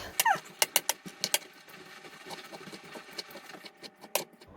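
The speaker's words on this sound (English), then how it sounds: "Anchovies in the mortar and pestle, and chopped garlic, and smash. Grind it into a paste." Anchovies and chopped garlic being pounded and ground in a mortar and pestle, with several sharp close knocks followed by quieter irregular grinding and scraping, without talk.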